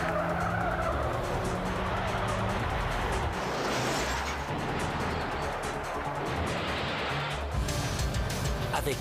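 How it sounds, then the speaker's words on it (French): Car tires screech and skid continuously in a 1995 PlayStation racing game promo, loud and sustained with engine roar underneath and no pauses throughout. "là le bruit du crissement était mieux que celui qu'on avait au niveau des dégâts"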